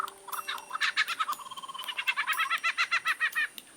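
A male lyrebird mimics a kookaburra's laughing call, a rapid rising and falling cackle of repeated notes that carries on steadily and fairly loud in the open bush.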